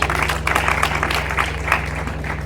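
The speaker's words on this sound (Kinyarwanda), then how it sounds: "umukubitira amashyi" Guests at a wedding celebration applaud the couple with a steady, dense patter of many hands and a low hum beneath.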